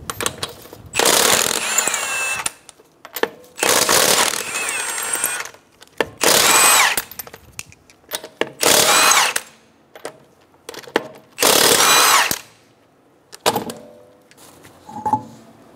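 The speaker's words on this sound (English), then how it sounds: "I'm going to remove the 5 lug nuts." A power impact tool rattles loudly in five separate bursts of about one to two seconds, with short pauses between them, as it spins the lug nuts off a 2012–2016 Subaru Impreza front wheel using a 19 mm socket. Faint metallic clinks fill the gaps.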